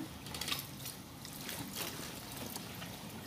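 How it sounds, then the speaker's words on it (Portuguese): Soaking water drains out of a laundry tub in a steady, soft rushing trickle that is continuous and fairly quiet, heard close with no talking over it. "Já vou tirar essa água que estava de molho nela"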